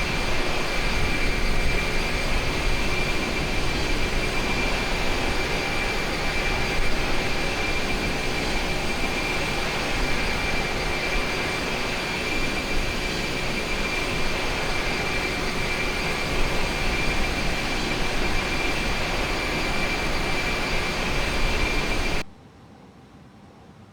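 Engines of an iniBuilds A300 airliner in Microsoft Flight Simulator during descent, a steady, loud jet drone with a constant whine, cutting off abruptly near the end.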